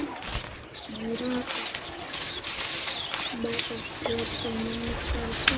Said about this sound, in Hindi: लाल चोंच वाले ऑक्सपेकर पक्षियों की आवाज